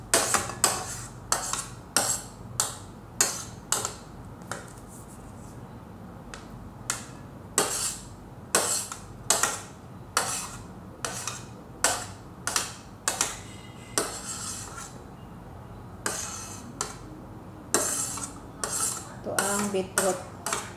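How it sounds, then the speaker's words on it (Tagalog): Carrots are grated by hand for a beetroot salad, heard as a long series of close, sharp rasping strokes in an uneven rhythm, each with a faint metallic clatter, and no one talking. "Yung carrots ay kinakadkad natin."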